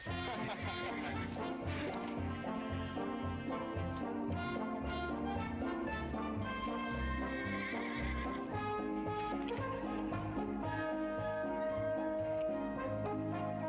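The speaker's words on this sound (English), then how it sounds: "Gee, that's a big old star horse" A horse neighs and whinnies repeatedly over hoof clip-clops, set against a continuous dramatic orchestral score in a Western scene of breaking a wild star horse.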